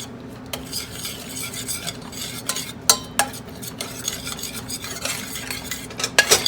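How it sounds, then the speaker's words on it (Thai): A metal utensil scrapes and clinks inside a deep pot as a red curry with pork belly is stir-fried, in irregular strokes over a soft sizzle. "ผัดเลยค่ะ"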